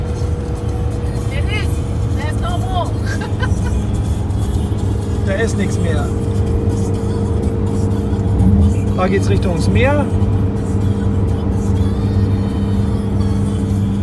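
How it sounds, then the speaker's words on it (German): A car's engine drones steadily from inside the cabin while driving on a road in Australia toward Canberra, a constant low hum with road noise, as people talk over it. "Jetzt muss das Auto arbeiten."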